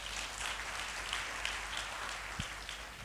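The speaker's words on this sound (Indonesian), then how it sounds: "Kasih tepuk tangan untuk Tuhan." A church congregation at a Sunday service applauds from a distance, a soft, steady wash of clapping that lasts throughout.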